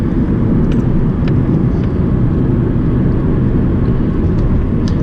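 A 1990 Nissan Skyline GTS-T Type M, turbocharged, running smoothly, a steady low rumbling engine drone heard from inside, even and continuous.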